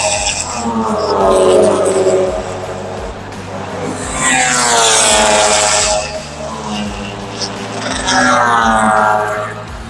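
Hyundai Elantra TCR 2000cc turbo race cars scream past on a circuit during an overtaking battle, engines rising and falling in loud passing wails as a commentator talks excitedly.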